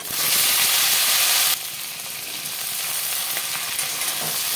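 Chopped vegetables dropped into hot oil with panch phoron and dry chilli, a loud close sizzle that drops abruptly after a second and a half, then settles into steady frying crackle.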